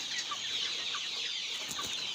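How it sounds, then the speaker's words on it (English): Broiler chickens cluck softly in a poultry house, a dense chorus of short, overlapping calls with a few louder clucks standing out, moderately quiet and continuous, no talking. "You can see my broilers."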